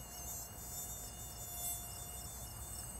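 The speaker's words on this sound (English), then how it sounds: "There are mosquitoes in here!" Cartoon mosquitoes buzz in a steady, thin, high whine that holds without pause, with no voices over it.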